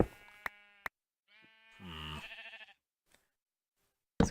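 A sheep bleats in the Minecraft video game, one wavering mid-clip bleat between sparse clicks and game sounds, clear against near silence.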